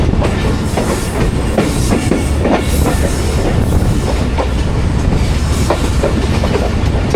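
A train passes close by on the Hazara Express line: a loud continuous rumble with rhythmic clickety-clack of wheels over rail joints, steady and unbroken throughout, with no talk.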